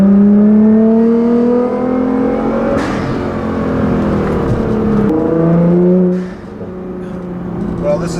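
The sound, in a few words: 2015 Nissan GT-R accelerating in third gear, loud exhaust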